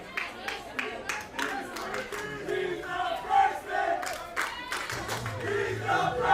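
A baseball crowd at a Jaguars versus Aggies game chants in rhythm and cheers loudly, with clapping mixed in, while an announcer talks over it.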